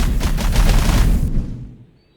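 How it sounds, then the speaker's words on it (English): A loud flashbang detonation in the video game Vindilis, a dense burst with a sustained blast and ringing tail that fades away into near silence over about two seconds. "Flashbang."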